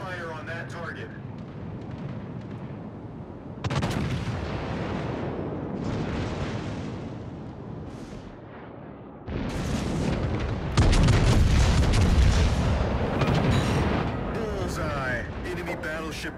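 Naval artillery thunders in the World of Warships: Legends video game: heavy booming salvos and rumbling blasts roll on in loud stretches, with voices talking over the battle noise.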